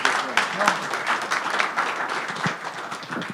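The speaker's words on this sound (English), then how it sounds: "can we give a round of applause for Yuri real quick?" An audience at a tech presentation event breaks into applause, a dense patter of clapping heard close and steady, mixed with some talking.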